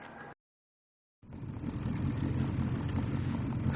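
A car engine fitted with a Quadrajet carburetor idles at about 600 rpm after a brief dropout, settling into a steady, close, even hum with no talk.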